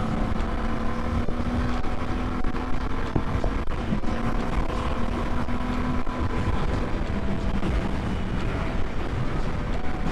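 A Royal Enfield motorcycle on the road gives a steady engine drone under constant wind and road rush, loud and continuous throughout with no talking.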